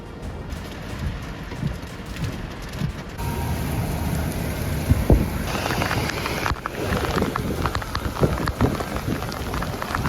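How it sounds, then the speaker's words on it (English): Heavy rain and hail hammer down on Plainview in a dense, continuous roar, with bursts of harder pelting hail and gusts swelling the storm noise. "Storms swept through Plainview, hail pounding down while floodwaters rose quickly"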